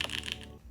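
Brief, soft clacking of keys on a One Piece themed mechanical keyboard, a few deep, muted strikes in quick succession.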